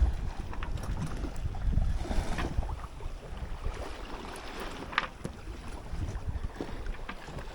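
Light wind on a sailing yacht crossing the Doldrums on an ocean passage: a steady, broad rush of breeze and water around the hull, with a few faint creaks and knocks and no voices.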